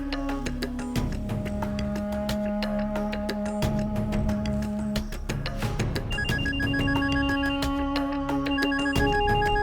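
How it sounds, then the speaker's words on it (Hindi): A telephone rings on and on with a looping electronic ringtone melody, steady and fairly loud for the whole stretch, and nobody picks up; no one speaks. "वो फोन नहीं उठा रहा है"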